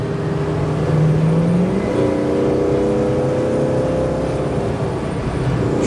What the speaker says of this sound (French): ce V8, on l'entend à la fois à l'échappement et puis devant le capot